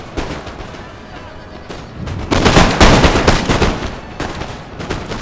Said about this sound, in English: Unleash the volleys.